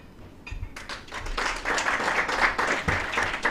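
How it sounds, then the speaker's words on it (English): Applause for the Inspector General of Police at a Kenyan election security meeting with the IEBC, a room of clapping hands that swells after a brief pause and holds steady and full, no talk over it. "A round of applause for the IG."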